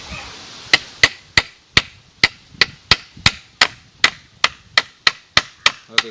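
Hammer blows driving small pieces of local timber onto the backrest frame of a handmade wooden chair, about fifteen sharp, evenly spaced knocks ringing close and loud with brief pauses between them.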